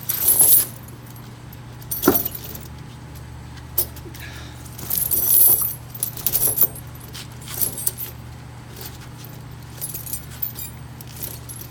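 Metal tire chains being fitted to a car tire, rattling and clinking in short bursts spread across the clip, with quiet pauses between handling sounds and a low steady hum underneath.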